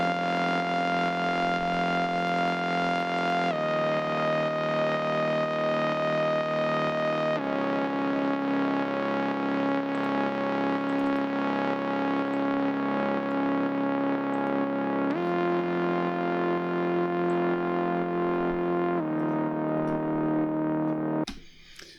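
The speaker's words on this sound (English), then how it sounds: "So I absolutely love the Sub 37, and I think it gives this wonderful squealing high pitch noise" A Moog Sub 37 synthesizer fed through a Black Hole reverb effect holds long, loud, sustained squealing tones that step between pitches every few seconds, then cut off abruptly at the end.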